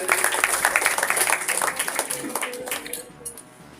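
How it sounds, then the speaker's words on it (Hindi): Applause breaks out at a community gathering of the Gond society in Govardhanpur, a dense burst of many hands clapping that thins out and fades near the end. "इनके सम्मान में हम चाहेंगे पहले एक बार जोरदार ताली हो जाए।"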